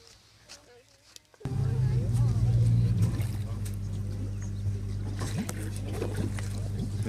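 After a brief quiet moment, a motorboat engine on the Daintree River starts with a sudden loud rumble and keeps droning steadily nearby, with a voice talking faintly over it.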